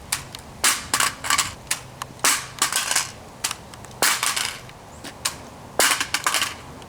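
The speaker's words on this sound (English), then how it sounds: "We're going to do our standard drop test from the rifle," A loaded Hexmag HX30 polymer AR-15 magazine is dropped repeatedly onto concrete, giving sharp, close clacks and rattles in irregular bursts, with no voices.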